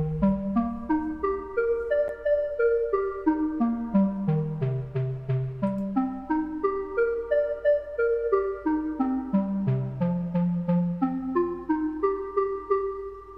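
A plucky synth melody built from a Vital preset layered with FL Studio's Sakura plugin plays a steady run of bright, bell-like notes over a low sustained bass, loud and alone without voices.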